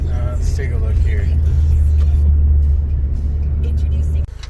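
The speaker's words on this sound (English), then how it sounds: "the Yonaka exhaust is not too loud coming up on idle" A Honda with a Yonaka catback exhaust and deleted muffler idles with a loud, steady low rumble, its engine note droning close by before dropping off abruptly near the end.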